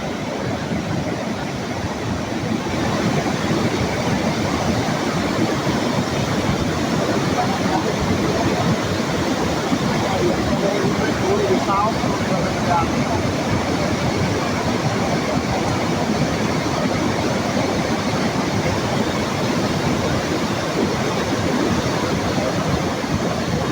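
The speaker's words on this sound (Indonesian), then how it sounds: "Arus masih deras." Strong river current after a landslide and heavy rain in Pekalongan, a steady broadband roar of rushing water that holds constant and fairly loud throughout, with no talking over it.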